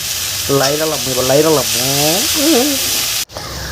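Greens cooked with garlic paste sizzle loudly and steadily in a pan, and a voice is briefly heard over the frying.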